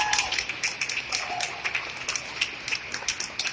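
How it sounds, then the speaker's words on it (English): Light, scattered clapping from a small audience for young readers on stage at a town center library event, uneven individual claps rather than a full ovation, against background noise. "let's give them a round of applause"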